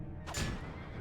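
A horse whinnies once in the Battle Realms strategy game, a short, bright neigh rising over steady low battle noise, with geishas riding horses nearby.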